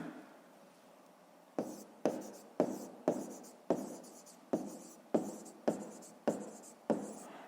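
A pen writes on paper for a school maths exercise: after a quiet start, a rhythmic series of about ten sharp, close scratching strokes, each fading quickly, with no speech.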